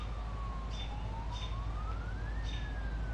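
A police car siren in a video game wails alone, its pitch rising and falling smoothly over a dense, steady background rumble, with no talking.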